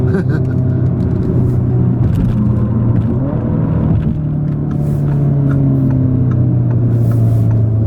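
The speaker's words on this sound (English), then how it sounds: "it's amazing how much power they can get out of these 4-cylinder 2-liter motors" A 2017 Audi S3 with a turbocharged 2-liter four-cylinder engine and dual-clutch gearbox, heard from inside the cabin as a loud, steady low engine drone with rising pitch under acceleration, and tyre and road rumble underneath.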